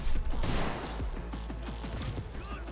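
Rapid gunfire in the video game Cyberpunk 2077, a dense burst of sharp shots fired in quick succession, loud at first and continuing steadily throughout.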